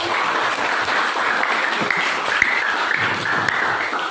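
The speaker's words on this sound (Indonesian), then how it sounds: "tepuk tangan untuk kelompok" Students in a classroom clap for a group that has just finished presenting, a lively spread of many hands with a few sharper individual claps standing out.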